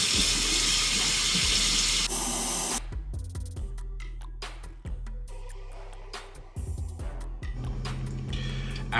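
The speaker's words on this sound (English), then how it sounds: "Put hot water in the bottle." Hot water rushes from a tap into a plastic spray bottle with a loud, steady hiss, then gives way to a series of short bursts and knocks as the bottle is handled.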